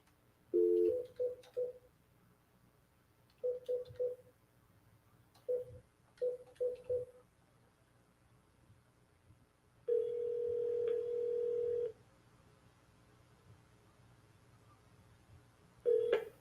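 Phone line tones on a call that connects to an automated voice messaging system: short clustered beeps in bursts of three or four, a sustained two-second tone, then one more beep, thin and quiet with no voices.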